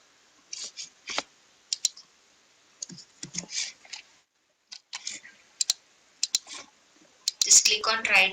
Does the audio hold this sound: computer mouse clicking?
yes